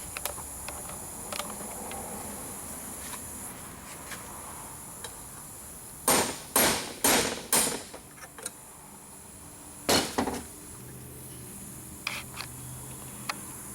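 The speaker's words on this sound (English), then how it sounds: "Hoping I can drive the shaft out with a punch after I ground the welds off." A hammer strikes a punch to drive out a worn turbo wastegate shaft on a Volkswagen Tiguan: a quick run of five sharp metallic blows, then two more a moment later, close and distinct against quiet background.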